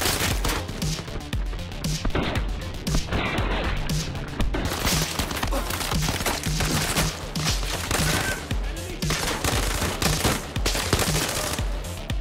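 Sustained gunfire in the WW3 first-person shooter Zero Caliber, dense rapid bursts and cracking shots that run almost without a break, loud and close, with occasional splintering and impact noise mixed in.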